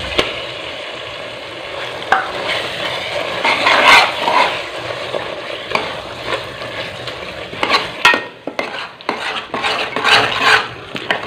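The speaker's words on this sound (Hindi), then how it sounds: "मसाले को हल्की आंच पर भून लेंगे।" Masala paste for Lahori chikar cholay fries on low heat while a spoon stirs and scrapes the pan, soft sizzling broken by sharp metallic clinks and scraping knocks, with no talk.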